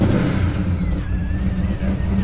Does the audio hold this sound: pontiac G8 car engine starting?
yes